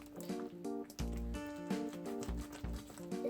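Hands repeatedly slap homemade purple-and-blue slime, giving wet, squelchy smacks in an irregular rhythm, close and fairly loud, with music playing underneath.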